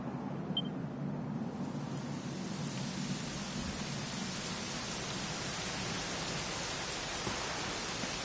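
Steady, even rainfall hisses continuously without pause, a broad soft wash of falling rain with no voices, in Dragon Quest 11.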